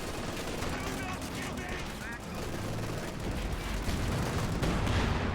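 Dense gunfire from the World War II strategy game Company of Heroes 2, rapid overlapping rifle and machine-gun bursts with distant crackling, continuous and growing louder toward the end.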